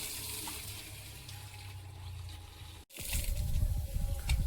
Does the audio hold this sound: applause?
no